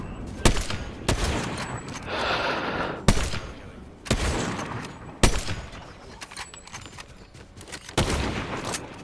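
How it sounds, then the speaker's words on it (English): Gunfire in Fortnite Chapter 5 Season 1 Zero Build trios, with sharp broadband shots and bursts recurring every second or so over a busy game background, fairly loud and close. "Oh, they're getting shot at."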